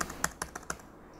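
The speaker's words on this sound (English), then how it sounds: "Got to type in some APL characters, people." Keystrokes on a computer keyboard entering APL symbols, about five crisp clicks in a quick irregular burst, close and fairly loud with no voices.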